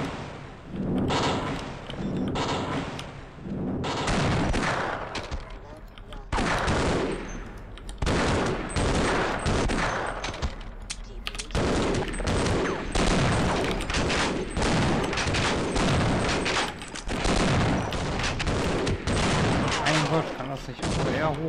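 Gunfire in the video game Half-Life, dense loud bursts of rapid shots and heavy thuds continuing almost without pause.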